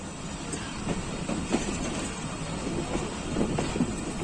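Pakistan Express passenger train running on the line toward Jhelum, a continuous rumbling roar with rhythmic rail clatter and wind noise, heard from on board.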